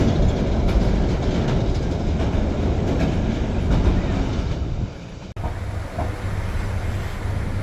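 A train rolling along its rails through a flooded stretch of track in Vietnam, dense continuous rumble and clatter from the carriage that suddenly drops quieter near the end, no talk.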